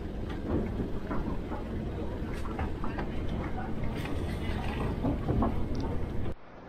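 A river boat motor drones steadily on a Mekong Delta excursion, a low rumbling engine hum with some rattling, continuous and fairly close, then cutting off abruptly near the end.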